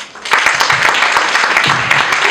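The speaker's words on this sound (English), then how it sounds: "Let's give her another round of applause." Audience at a Nairobi graduation ceremony breaks into applause, dense loud clapping from many hands filling the hall without pause.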